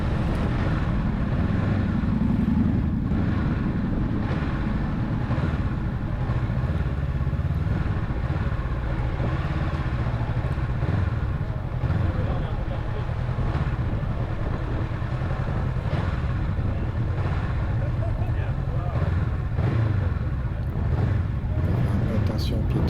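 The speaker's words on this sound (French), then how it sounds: "Moto, moto, moto, moto. C'est un couloir de moto." Motorcycles rumble steadily past at a bikers' gathering in Montalivet, a continuous close engine drone lasting the whole stretch with people talking over it.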